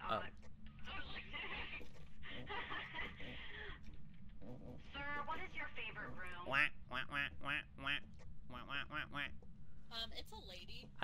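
Repeated quacks sound in Phasmophobia, a burst of fairly loud, rhythmic honking calls that comes and goes amid players chatting over voice chat.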